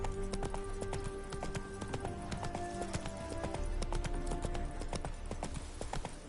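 The horse Roach gallops in The Witcher 3, a dense, rapid clip-clop of hooves that runs without a break at a steady level, with layered game sounds underneath.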